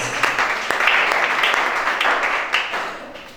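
Applause from a church congregation at a worship service, dense rapid clapping from many hands at fairly close range, holding steady for several seconds with occasional sharper individual claps standing out.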